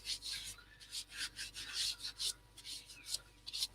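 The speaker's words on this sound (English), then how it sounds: "And now we'll go in with the usual grit, Yorkshire grit." Yorkshire grit abrasive paste being rubbed onto sanded, sealed wood, a close, steady rasping scrub in quick repeated strokes with no talking.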